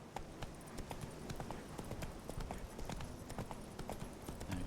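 Roach the horse gallops in The Witcher video game, a steady quick clip-clop of hooves running continuously at close range, with no talking over it.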